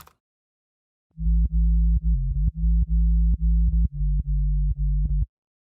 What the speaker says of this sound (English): the sub bass is basically just a sine wave with the third harmonic in there